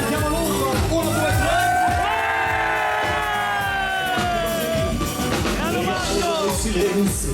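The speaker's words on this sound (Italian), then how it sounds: "Non sentiamo l'urlo, 1, 2," A crowd at a wine festival concert in Sant'Andrea di Campodarsego shouts and whoops together in a loud, sustained roar as an orchestra's singer calls out to them over the music.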